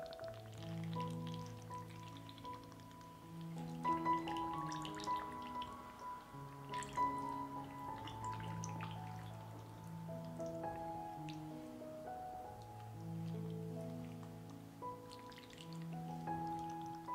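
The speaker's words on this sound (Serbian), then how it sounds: "Tečnost koju je pustila paprika sipat ću u tegle." Liquid released by roasted peppers is poured into jars, giving soft, sparse drips and trickles that are quiet and close, over faint tonal background music.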